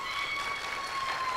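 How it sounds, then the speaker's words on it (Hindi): Brief, moderately loud audience clapping at an Islamic general-knowledge quiz, a steady patter with a faint tonal hum running beneath. "बहुत सारी तालियां हो जाए"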